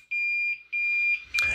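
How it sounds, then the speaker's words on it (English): A vinyl chloride gas detector sounds its alarm after reaching about 5 ppm, giving three loud, piercing electronic beeps, two long and one cut short, with near silence between them. "it's going to go up, and then it's going to start alarming"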